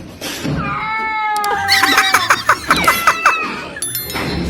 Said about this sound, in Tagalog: Mas nauna pa natakot yung pusa.